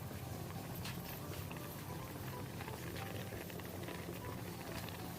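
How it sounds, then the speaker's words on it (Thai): A pot of pork bubbles at a steady boil, a dense continuous simmering patter, fairly quiet and close. "ให้เพื่อนๆเคี่ยวหมูไว้จนน้ำเดือดเลยครับ"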